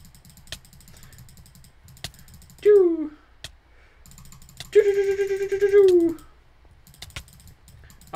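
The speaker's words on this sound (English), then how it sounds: "I'm just clicking away. I gotta get a better mouse. My mouse is really loud." Sharp clicks tap out at irregular intervals from a computer mouse, joined by brief tonal game sound effects, over a low steady hum.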